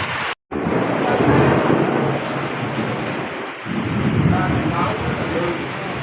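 A loud thunderstorm with heavy rain in coastal Konkan, Maharashtra: a dense, steady downpour hissing on surfaces, with deep thunder rumbling through it and no voices.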